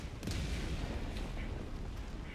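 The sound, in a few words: orbital barrage explosions in Helldivers 2 video game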